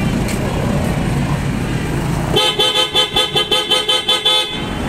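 A PIAA Oto-style aftermarket horn fitted on a Nissan Terra, wired to sound together with the stock horn, blares loud and close in a rapid series of pulsing honks after a stretch of steady engine and background rumble.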